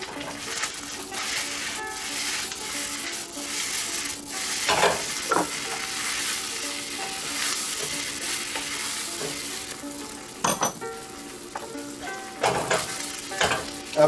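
Cumin chicken stir-frying with chunks of green onion makes a continuous sizzle, broken by clattering stirs and scrapes.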